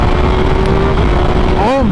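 Ducati Panigale V4R motorcycle with an Akrapovic exhaust accelerating, a loud close engine note with a long held tone that climbs sharply at the end, heard under wind noise.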